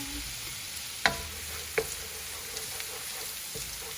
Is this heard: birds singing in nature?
no